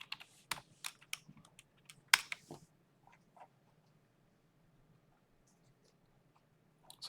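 Scattered keystrokes on a computer keyboard during a GIS programming session, a few quick clusters of clicks up front and then long quiet gaps with only the occasional isolated tap, close and fairly faint.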